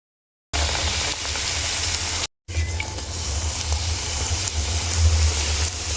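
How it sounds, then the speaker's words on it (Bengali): Luchi, puffed flatbread, frying in hot oil, giving a steady close sizzle and bubbling that runs for the whole span apart from one brief break, with a low rumble underneath and no talk. "আর মা ওইদিকে লুচি ভাজাও শুরু করে দিয়েছে।"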